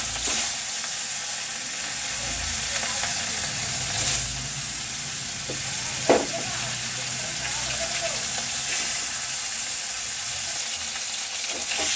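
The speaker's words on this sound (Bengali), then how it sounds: "এবার আমি কড়াইয়ের মধ্যে সর্ষের তেল দিয়ে নিয়েছি আর নুন হলুদ মাখানো মাছগুলোকে আমি একে একে কড়াইয়ে ছেড়ে দেবো" Salt-and-turmeric-rubbed fish fry in mustard oil in a wok, giving a steady bright sizzle throughout with a few louder pops and spatters near the middle, close by and without talk.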